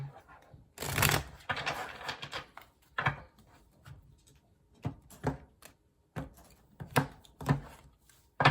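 Tarot cards being shuffled up close, a dense riffling burst near the start followed by a series of shorter crisp shuffles and taps, with no voices.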